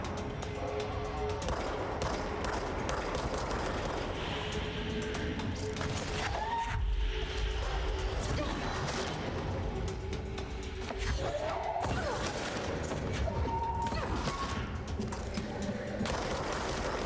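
Shotgun blasts from the video game Control ring out in a dim, strange interior, with a few sharp reports standing out over a dense, continuous backdrop of game noise and rumble.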